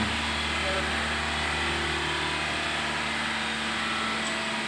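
A 2016 Toyota Sienta engine runs steadily, held at about 2000 RPM, giving a continuous, even mechanical drone up close with no break.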